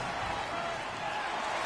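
Constant stadium crowd roar in a video football game, a dense steady wash of distant voices with no breaks, loud and even throughout.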